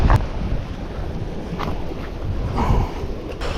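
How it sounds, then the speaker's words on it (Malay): Strong wind at a seaside fishing spot on Pulau Rimau buffets the microphone in a continuous loud low roar with gusty surges and a faint hiss of sea behind it. "angin kuat sangat"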